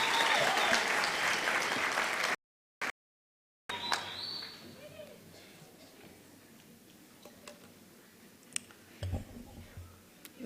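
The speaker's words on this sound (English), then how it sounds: "Let's give them another round of applause, please." Applause from a crowd at a university graduation ceremony in Windhoek, loud and dense for about two seconds, then cut off abruptly, followed by quieter room sounds with scattered claps and clicks.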